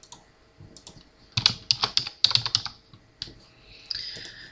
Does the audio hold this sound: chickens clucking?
no